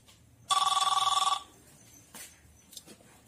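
A telephone bell rings in one short burst of rapid trilling, loud and close, followed by quiet room noise and a couple of faint clicks.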